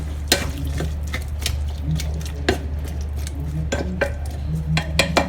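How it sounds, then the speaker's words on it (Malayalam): A utensil stirs tomato curry in a pot, knocking and scraping against the sides in irregular clinks over a low background hum, with no talking. "അതിനുശേഷം നന്നായി മിക്സ് ചെയ്യാം"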